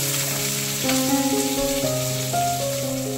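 Steady sizzling of onions frying in a hot pan, close and even, with a faint tonal hum running underneath throughout.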